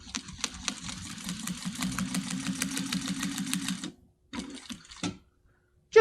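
A Titan 650BL industrial sewing machine stitching through wax canvas and foam, a fast steady mechanical chatter of needle strokes for about four seconds, then two short bursts and a sharp clunk.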